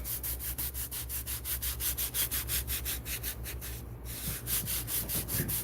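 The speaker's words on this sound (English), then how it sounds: "by doing this hand burnishing, you can see it's really shining it up" A craft piece is burnished by hand, rubbed in a quick, even back-and-forth rhythm that gives a soft, close scratchy swishing, repeating steadily with a brief pause near the end.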